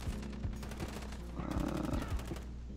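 Rapid sniper rifle shots from the Rytec AMR in the Modern Warfare video game, a quick series of sharp gunfire bursts at a steady rhythm, loud and close.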